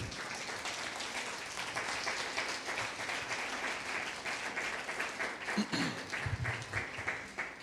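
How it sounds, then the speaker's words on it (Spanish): A church congregation applauds during a sermon, a sustained, even round of many hands clapping with a few louder nearby claps and brief voices toward the end. "Démosle un aplauso a la palabra de Dios."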